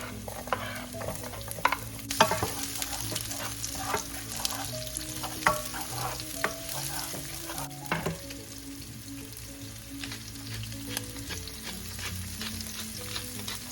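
Onions fry with ground pork in a pan, a soft steady sizzle under frequent spatula scrapes and stirring clatter, close and fairly quiet, with no talking.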